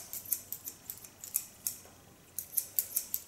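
Crisp, quiet snips of Kyoto barber scissors cutting hair, coming in quick irregular clusters of sharp metallic clicks, close up with nothing else around.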